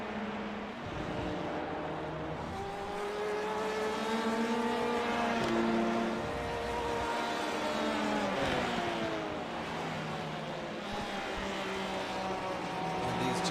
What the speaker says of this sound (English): It's a LMP2 car making its way through the field after starting from the back